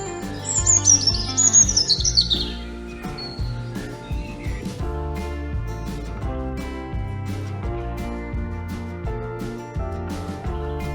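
Several small birds sing and chirp at a nature reserve by the Oxford Canal, bright high trills near the start giving way to lighter tweets over a steady tonal background.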